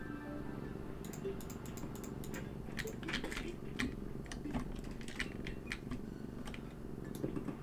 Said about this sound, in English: You might be able to hear my cat purring.